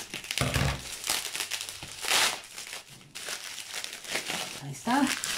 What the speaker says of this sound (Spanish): Viene con las burbujitas.